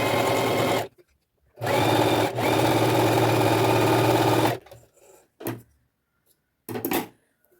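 Zigzag stitching on a sewing machine as a knee pad is sewn: two loud, close bursts of fast motor whir and needle chatter, followed by a few short stops and starts with quiet gaps.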